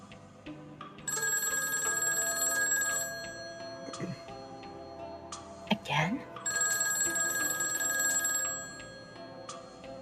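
A telephone bell rings in two bursts, an electronic trill heard at moderate distance, with a short pause between them and a brief spoken question in the gap.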